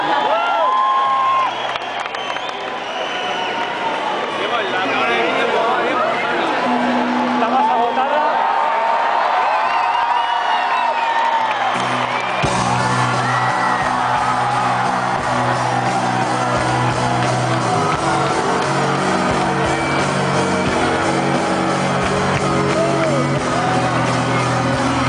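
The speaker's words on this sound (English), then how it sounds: "That means there's that big crowd." A large crowd at a concert in Madrid cheers and shouts continuously, a dense roar of voices with whoops and yells, while a man addresses the audience over it.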